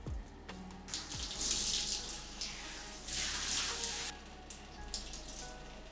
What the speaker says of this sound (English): I rinse it out.